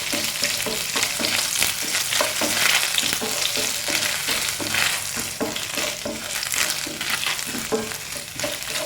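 Coconut pieces sizzle steadily as they fry in a pan for unniyappam, with a spoon scraping and stirring in irregular clicks close by, and no talking.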